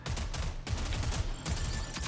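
SMG fire in a video game, steady rapid bursts that fill the short stretch at moderate volume, with brief gaps between volleys.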